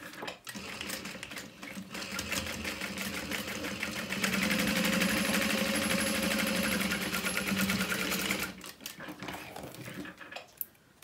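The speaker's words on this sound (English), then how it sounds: "bring the exterior facing down and sew through only the exterior." A sewing machine runs through the exterior fabric of a wristlet wallet, producing a loud, close, continuous rapid stitching whir for several seconds, with a few clicks and handling noises before and after.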